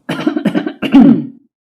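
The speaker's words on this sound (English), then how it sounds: "I have a cough." A person gives a cluster of loud, close coughs, several quick bursts followed by a longer, rougher one that fades out.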